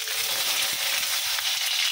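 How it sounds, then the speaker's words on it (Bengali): Eggs frying lightly in hot oil on a home kitchen stove give off a steady, close sizzle with a dense hiss and no voices. "এখন ডিমগুলা বাইজা নিই, একটু হালকা ভাজা দিয়ে তারপর বোনা করবো"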